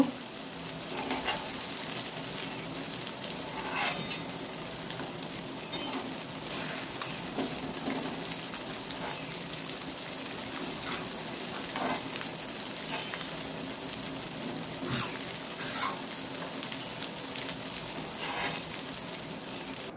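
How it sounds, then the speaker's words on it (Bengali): Mochar dhoka, banana flower cakes, frying in hot oil, a continuous close sizzle with bubbling crackle and occasional clinks of stirring, no voices over it. "দেখো বন্ধুরা আমার মোচার ধোকাগুলো ভাজা হয়ে গেছে"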